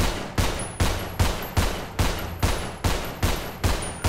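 Gunfire in the GTA 5 video game: about nine evenly spaced sharp shots over four seconds, each a loud broadband crack with a short decaying tail.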